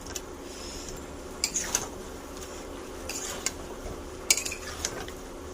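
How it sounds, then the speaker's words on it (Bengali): Potatoes being stirred with biryani spices and ghee in a pan, with a metal spoon giving sparse, faint clinks and scrapes against the pan at irregular moments. "এবার আলুটা দিয়ে কষিয়ে নেব মশলা"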